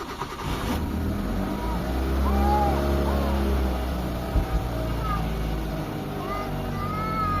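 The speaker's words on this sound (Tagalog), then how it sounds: "Start tayo ng engine mga bossing." A Mitsubishi Lancer engine turns over and settles into a steady low idle, loud and close, with a couple of brief knocks partway through.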